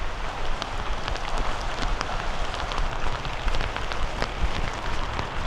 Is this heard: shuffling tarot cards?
no